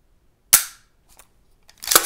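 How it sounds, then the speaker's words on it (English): Dry-fire trigger pull and reset on a Triarc TSR-15S pistol: a sharp close snap of the break, then faint small clicks and a quick rattling reset near the end. "Single stage trigger, let's feel that reset."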